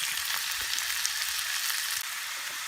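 Vermicelli noodles fry in a frying pan, giving a dense, even, close sizzle that holds steady throughout with faint stirring underneath.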